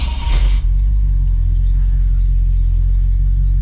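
Ford Galaxie with a freshly repaired engine idling as it warms up on a hot day, a steady deep rumble close by after a short burst of louder noise at the start.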